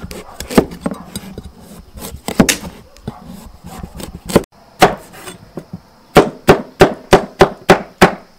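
An old pumpkin is chopped open with sharp, heavy blows close up. The strikes come in an uneven scatter at first, then settle into a steady run of about eight evenly spaced chops.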